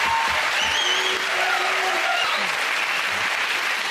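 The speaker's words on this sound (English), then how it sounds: "We'll come off the applause again." A studio audience on a comedy panel show claps in a dense, steady burst of applause that holds at full volume throughout, with a few whoops and cheers rising above it.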